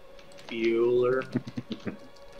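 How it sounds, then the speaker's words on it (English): Computer keyboard typing as a short burst of several light, quick key clicks, following a brief voice, moderately quiet. "I hear him typing."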